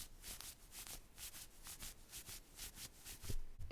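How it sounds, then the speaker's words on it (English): A fabric jacket rubbed by hand for a music recording makes soft, steady rustling swishes in a regular back-and-forth rhythm, close and fairly quiet, with no one talking. "And then me rubbing a jacket."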